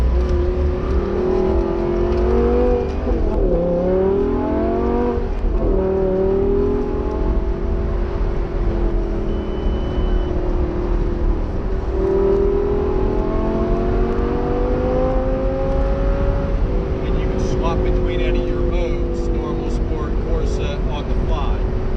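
A Lamborghini Gallardo LP560 engine drones and revs, its pitch rising and falling through gear changes, steady and close, with no talking.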